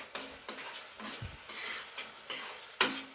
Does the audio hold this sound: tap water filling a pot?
no